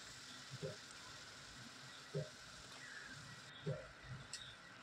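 Onions sautéing in oil in a pan with salt and turmeric, a faint, steady sizzle running throughout, broken by a few soft scraping stirs spaced about every second and a half.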